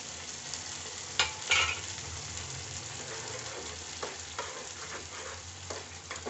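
Finely chopped garlic cooking in hot oil, a soft, steady sizzling, close but fairly quiet, with occasional scraping stirs and a few louder clatters.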